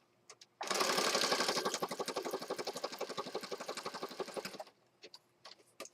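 A sewing machine stitching scrappy spring journal elements runs in a loud, steady burst of rapid needle strokes for about four seconds, then stops, with faint handling clicks before and after.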